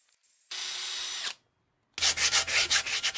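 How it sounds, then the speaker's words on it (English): A wire brush spun by a drill scours caked corrosion off a Skoda Fabia vRS alloy wheel rim, with one steady grinding burst, a pause, then a second pulsing run of scratchy rasping bursts. "Gonna use a wire brush and a drill to get most of the loose stuff off and the caked up corrosion."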